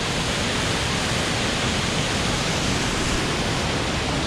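Water from a small waterfall pours among massive boulders near Guadalupe, Colombia, a steady, loud, broadband rush that holds even and close throughout with no voices.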